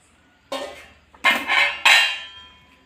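Stuffed eggplant being stirred in a pan, giving three separate bursts of scraping and clinking of utensil against the pan, close and moderately loud, with no voices.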